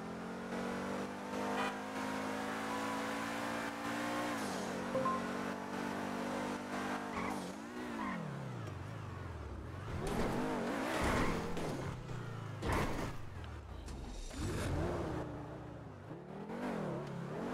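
A car in the video game GTA RP drives uphill, its engine droning steadily, then revving up and down with swooping pitch changes and bursts of acceleration, moderately loud and continuous.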